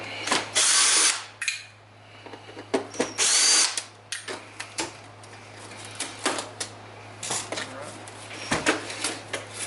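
A power driver removing screws from a Riccar Radiance RAD.4 R40 vacuum cleaner, close by: short loud whirring bursts followed by rattling and clicking handling of the parts, with someone talking in between.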